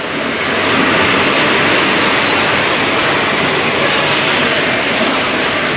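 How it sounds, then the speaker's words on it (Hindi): The Howrah Titagarh Ispat Express pulls into an Indian railway station, a loud continuous rumbling roar of the train rolling alongside the platform, swelling after the first second and holding steady to the end. "सामने खड़ी हो रही है हावड़ा टीटागढ़ इस्पात एक्सप्रेस"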